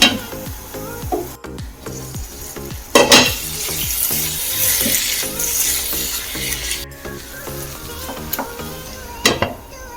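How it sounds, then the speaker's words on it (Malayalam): Dates pickle cooks in a pan while a spoon stirs it: a steady close sizzle runs throughout, and sharp scrapes and knocks of the utensil against the pan recur in irregular bursts. No voices. "ഇതൊക്കെ ഒന്ന് തുറന്ന് ഇളക്കി കൊടുക്കാം"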